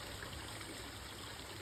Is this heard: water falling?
yes